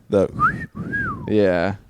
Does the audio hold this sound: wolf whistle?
yes